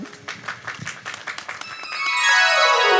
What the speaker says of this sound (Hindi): तो उनके सम्मान में एक बार जोरदार तालियां